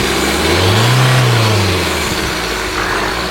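A Tata 1.5-litre Revotorq diesel engine revs up in one loud, close rise that swells to a peak and falls back toward idle over a few seconds.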